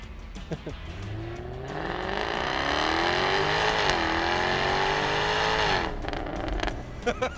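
A Jaguar's exhaust roars loudly as the car accelerates hard along a short straightaway, the engine note climbing steadily for several seconds with a brief dip before easing off, close and dominant with no speech over it.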